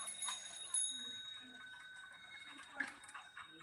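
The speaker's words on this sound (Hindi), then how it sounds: "इतना तेज घंटी क्यों बजा रहे हो आप?" A small bell rings faintly with several light metallic strikes and lingering tones in a quiet indoor setting, without speech.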